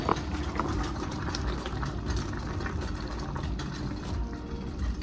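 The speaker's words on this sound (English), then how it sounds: "It is boiling, and so now all I'm gonna do is just put it on simmer. We're gonna give it a good little stir." Taco meat bubbles at a boil in a pot while a utensil scrapes and stirs through it, a steady, busy churning with small clicks and knocks, close and continuous.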